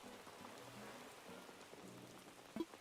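Rain falling in the Animal Crossing video game, a faint, soft, even patter throughout with a small tap near the end.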